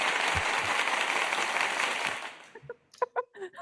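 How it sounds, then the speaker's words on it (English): A burst of dense applause plays steadily for about two and a half seconds, then fades quickly and leaves a few scattered faint sounds at the end. "And Jeff gets the applause for that one."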